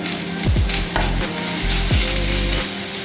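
Bitter gourd and potato slices frying in a little oil with salt in a home kitchen pan, a loud continuous sizzle close by, broken by a few scraping strokes of a spatula turning the pieces.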